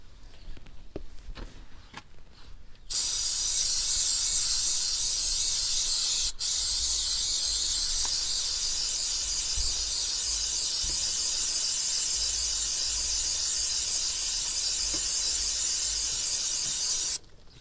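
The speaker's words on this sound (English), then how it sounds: "you can work this cleaner throughout all the links of the chain" Chain cleaner sprays in a long, loud, continuous hiss of about fifteen seconds onto a motorcycle chain, with a brief dip partway through. A few quiet clicks come before it.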